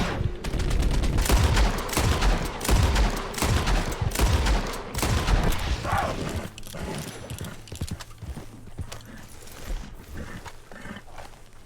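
Rapid gunfire rings out in Red Dead Redemption 2 as pumas attack, a dense burst of loud shots up front with horse hoofbeats mixed in, then sparser cracks trailing off over a low hum.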